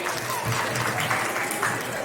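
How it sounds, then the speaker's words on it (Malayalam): Wedding guests at a Christian marriage in Kerala, India clap together in a steady, dense burst of applause, with a faint voice underneath. "എല്ലാവരും ഒന്ന് കൈയടിച്ച്"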